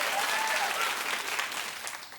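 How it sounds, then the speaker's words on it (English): A studio audience at a television talk show claps steadily and loudly, a dense continuous applause throughout. "And keep clapping for Chloe having a new man in her life."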